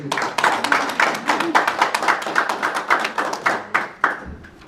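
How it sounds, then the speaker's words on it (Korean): A seminar audience applauds with dense, steady clapping that swells slightly, then thins into a few scattered final claps. "우리 문선희 원장님께 다시 한번 박수 부탁드립니다."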